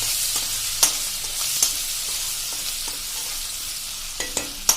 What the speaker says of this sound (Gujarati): હવે મિત્રો આને સહેજ આપણે સાંતળી લેશું